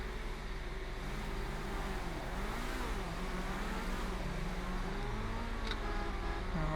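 A taxi in GTA 5 pulls up with a steady mid-pitched engine drone that rises and falls as it revs and slows, plus faint road rumble and a brief high blip near the end.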